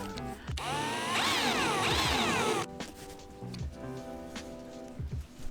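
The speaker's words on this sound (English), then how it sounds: "Not that much force, the drilling." A power drill drives a screw while installing a catamaran Bimini top, whining loudly for a couple of seconds with rising and falling pitch, then stops, leaving quieter mechanical clicks and rattles.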